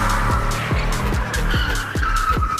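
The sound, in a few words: car doing a 180 drift, tires skidding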